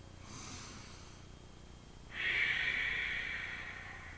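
Slow, deep breaths in a solar plexus chakra yoga class: a soft inhale followed by a louder, breathy hiss of exhalation, close and alone.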